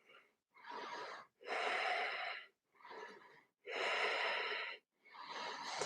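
Deep yogic breathing during a yoga flow, six slow, close breaths alternating between shorter and longer inhales and exhales, with brief quiet gaps between them.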